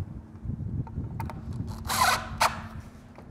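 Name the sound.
driving a screw into outside door trim with a drill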